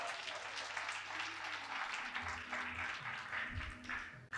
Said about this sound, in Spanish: regálate fuerte los aplausos